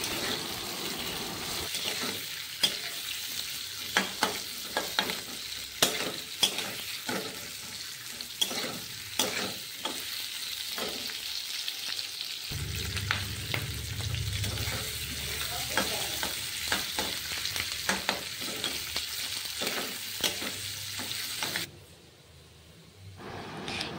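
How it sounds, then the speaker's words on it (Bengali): Onions and capsicum stir-fried in a pan for a paneer dish, with a constant sizzle and frequent sharp spatula scrapes and knocks. A deeper rumble joins midway, and the sound drops away near the end. "পেঁয়াজগুলো ছাড়া হয়ে গেলে আমি ক্যাপসিকামটাও এর মধ্যেই দিয়ে দেব। দিয়ে আমি এটাকে ভালোভাবে নাড়াচাড়া করব।"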